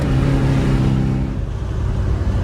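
A 1975 Porsche 914 accelerates, its engine droning steadily and loudly from inside the car before the pitch eases off.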